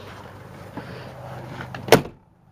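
A repaired, formerly sagging door swings shut with a single firm thud after some faint handling noise, followed by quiet.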